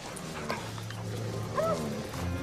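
A bear-tracking dog gives a few short barks and yips over a steady low hum, fairly close, with no voices.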